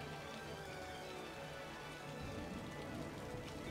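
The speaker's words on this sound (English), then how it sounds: "Heavy rain today. Heavy rain indeed in the game." Heavy rain in the city-building game Cities: Skylines makes a steady, soft hiss of rain on surfaces, faint and continuous throughout without talk.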